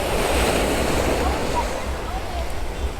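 Ocean surf at Miami Beach rolls in as a steady, broad wash of breaking waves, with wind buffeting the microphone throughout and no clear speech over it.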